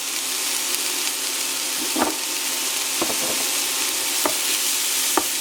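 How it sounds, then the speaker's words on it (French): Courgette and onion seasoned with salt and pepper fry steadily in a pan, giving a constant loud sizzle broken by a few sharp clinks and scrapes of a utensil stirring, with no talking. "Et là, on va cuire pendant environ 4 minutes"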